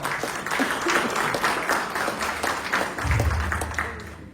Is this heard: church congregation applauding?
yes